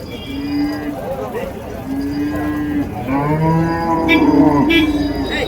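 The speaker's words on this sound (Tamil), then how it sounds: "இங்கேயும் ஒரு ஜோடி பாருங்க, எருதுங்க, உழவு மாடுங்க." A pair of matched plough oxen low at a cattle market, with several long drawn-out moos, some overlapping, heard close over a busy crowd murmur and faint background voices.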